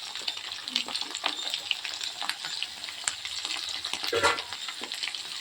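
Bitter gourd palya sizzles in hot oil while being stirred in a pan, a steady close frying hiss with scraping stir strokes and a louder stir near the end.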